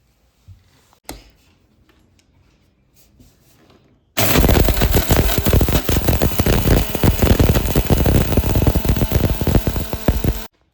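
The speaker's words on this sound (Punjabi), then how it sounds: "ਹੁਣ ਆਪਾਂ ਇਹਨਾਂ ਸਾਰੀਆਂ ਚੀਜ਼ਾਂ ਨੂੰ ਮਿਕਸੀ ਗ੍ਰਾਈਂਡਰ ਦੇ ਵਿੱਚ ਪਾਵਾਂਗੇ" A mixer grinder grinds roasted whole garam masala spices, starting abruptly after a few quiet seconds with faint clicks, then a loud, steady, rattling roar of hard spices battering the jar for about six seconds before cutting off.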